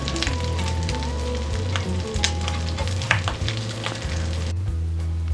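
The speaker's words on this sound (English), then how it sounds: "Let's get back to frying this stuff up." Homemade Southern liver mush frying in a pan, a steady close sizzle and crackle running throughout with occasional stirring scrapes, no talking.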